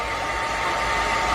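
A hair blower runs continuously with a steady, loud whooshing airflow and a faint motor whine, close by and alone.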